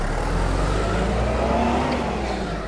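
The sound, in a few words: New Holland 8030 tractor engine revving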